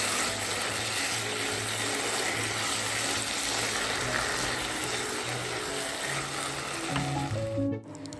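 Meat and potatoes fry in a pan for a bhuna-style dish while being stirred, making a loud, close, continuous sizzle with faint scraping, and a brief knock near the end.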